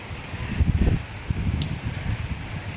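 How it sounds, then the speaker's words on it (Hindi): Wind gusting through rustling leaves as rain begins after hot sun, a rough, uneven whoosh with swelling bursts close to the microphone. "क्या मस्त हवा चल रहा है।"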